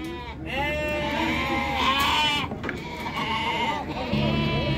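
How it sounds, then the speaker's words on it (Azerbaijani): Goats for sale at a livestock market in Füzuli, Azerbaijan, bleat loudly and close in several drawn-out wavering cries, with crowd noise and faint voices behind them. "Əziz qardaşlar, bu belə keçiləri var."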